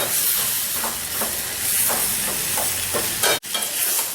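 Tomatoes frying in a pan for chutney, with a steady sizzle and hiss and soft rhythmic scraping as they are stirred, close up and without talk.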